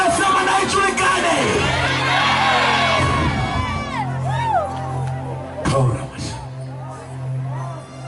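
A church congregation at a prophetic worship service shouting and whooping together, a loud crowd roar that swells at first and then fades into scattered yells and a preacher's voice.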